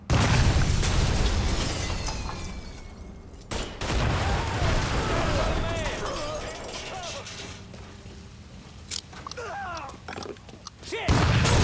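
Grenade blasts and gunfire in the Mafia 3 video game burst out loud and close, sharp booms with sudden drop-outs amid crackling combat noise and shouting.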